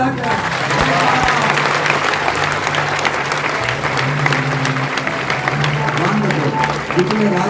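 A large crowd at a Christian convention gathering in Navapur claps loudly and continuously, dense sustained applause filling the whole stretch with a voice faintly underneath.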